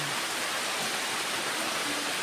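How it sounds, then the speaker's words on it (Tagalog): Steady broadband hiss of water falling and splashing, like rain or a small stream of drips from a leaking roof inside a house, continuous and fairly close with no talking. "Pumapatak na po ang tubig sa, kita naman po sa pagka-video na galing po sa palukuhan"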